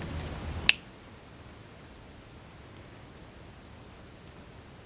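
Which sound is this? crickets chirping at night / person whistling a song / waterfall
crickets chirping at night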